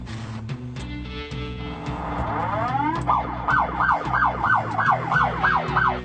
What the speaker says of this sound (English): it does have a movie-accurate siren